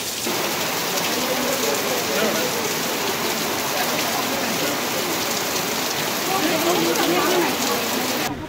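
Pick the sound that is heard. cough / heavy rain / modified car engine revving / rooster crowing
heavy rain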